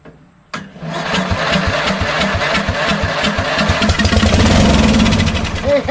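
An Agway lawn tractor engine, given starting fluid, cranks briefly and then catches, settling into a loud, close, steady running chug, while a person speaks over it.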